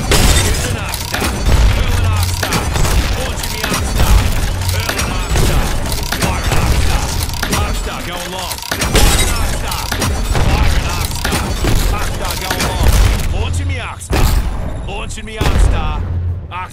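Fuse's Akdog grenades in the Apex Legends arena mode go off as a dense run of loud, crackling explosions and booms, with gunfire and game noise layered throughout and brief lulls near the end.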